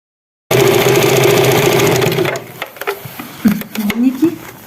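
A sewing machine stitches along the edge of an eco-leather tablecloth, running loud and continuous for about two seconds, then giving way to intermittent handling knocks and rustles.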